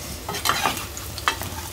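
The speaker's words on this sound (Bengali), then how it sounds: "মাছ ফ্রাই পুরোপুরি আস্তে আস্তে হিটে খুব সুন্দর মতন ফ্রাই করছি" Fish fries slowly over low heat in a pan, giving a soft, steady sizzle with small crackles and pops scattered through the short stretch, close and without talk.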